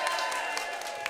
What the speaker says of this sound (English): A big round of applause for ACT leader David Seymour.